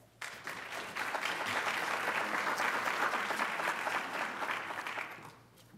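A conference audience applauds to welcome a speaker at the Yale NEA-BPD conference, a steady, full burst of clapping from many hands that swells quickly, holds for about five seconds and then fades out, with no voices over it.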